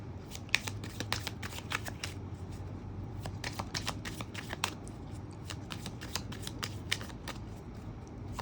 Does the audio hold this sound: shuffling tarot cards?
yes